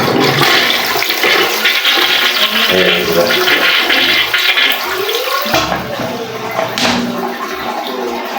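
A toilet flushes loudly and steadily after a flush repair, rushing water swirling for several seconds, with a brief spoken remark near the start.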